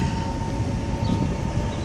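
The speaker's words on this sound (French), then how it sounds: "ça c'est du tramway décoré" A decorated tram passes along a street in Bratislava, producing a steady, loud low rumble with constant rail noise throughout and no voices.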